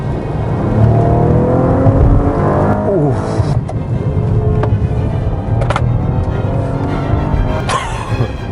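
A Maserati Quattroporte S Q4 sedan accelerates hard, its engine note climbing through rising sweeps with a shift or two, loud and close from inside the car, with no talking over it.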